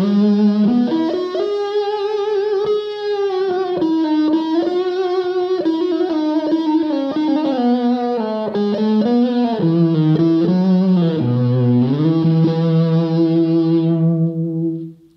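Electric guitar with its pickups wired in series, giving a thick, cello-like tone with a slight amp edge, played as a sustained, singing melodic line with smooth legato note changes, loud and close, with no talking.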